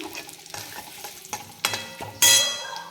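Curry leaves dropped into hot oil while making a capsicum curry with jaggery and tamarind, a few clinks and stirs, then a sudden loud burst of sizzling spatter, close up.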